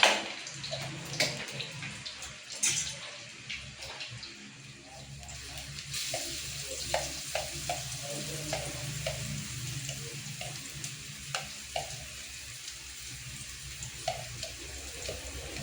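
Garlic sizzling in cooking oil in a pan, a continuous soft crackle and hiss with scattered pops and clinks, fairly quiet, with no speech.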